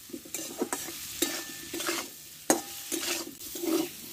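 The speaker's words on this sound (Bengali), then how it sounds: "দেখো আলু সোয়াবিনটা আমি ভালো করে কষে নিয়েছি।" Potato and soaked soybean chunks stir-fried in a pan, a soft sizzle under a series of sharp spatula scrapes and stirs at a fairly quick, uneven pace, close and alone without any talking.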